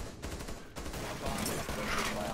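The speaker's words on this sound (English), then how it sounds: "I didn't even mean to shoot him." Gunshots in Rainbow Six Siege, a few sharp cracks close together at the start followed by muffled in-game noise and faint voice chat.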